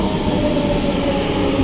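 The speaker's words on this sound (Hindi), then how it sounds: "यही है हम लोग का ट्रेन जो कि आ चुका है" Small passenger train arriving at a station, a loud, steady rolling rumble and rattle of cars close by, with no voices.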